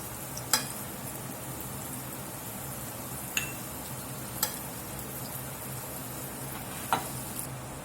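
Tamale pie filling sizzles softly and steadily in a pan while grease is scooped out, with a few sharp clinks of the utensil against the pan scattered through the low frying hiss.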